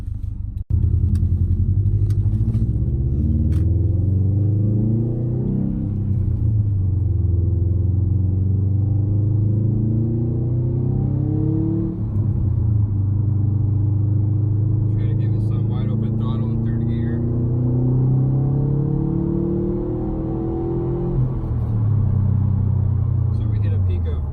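A Subaru STI's engine, tuned to Stage 1 with a Cobb Accessport, hums and rumbles from inside the cabin, rising and falling through gear changes as the car drives, with a brief clatter at the start.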